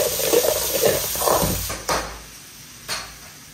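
Bangalore tomatoes hit a hot pan for a tangy dal, giving a loud, close hissing sizzle that fades, followed by two dull knocks of a utensil against the pan.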